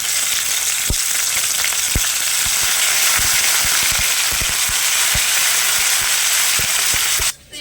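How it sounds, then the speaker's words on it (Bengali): Tempering spices with ginger and green chilli fry in a pan for a jackfruit dish, producing a loud, steady sizzle and crackle with occasional sharp spatula knocks, ending in a brief drop. "ফোড়নগুলো হালকা করে নেড়ে ছেড়ে একটু ভেজে নিয়েছি"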